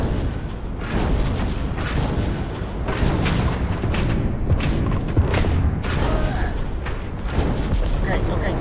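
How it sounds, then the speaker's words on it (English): Heavy booming weapon fire aimed at ships in a space battle in the game Starfield, with repeated blasts thudding over continuous rumble while someone talks throughout. "Would y'all quit shooting the ships I'm shooting at?"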